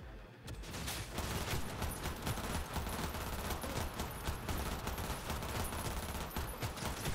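Sustained automatic gunfire in the video game Cyberpunk fills the whole stretch after a brief quiet start, a dense, loud, continuous fusillade of rapid shots with no voices over it.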